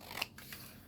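Scissors snipping through paper for a junk journal insert, one or two quick close crisp cuts in a short quiet moment.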